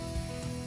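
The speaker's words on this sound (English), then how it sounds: "As you can see, the fuel is sucked in from the tank." Hissing, sucking draw of a compressed-air pneumatic fuel suction device (BGS 8702, 40 l) pulling fuel out of a vehicle tank, a steady close airy rush for under a second.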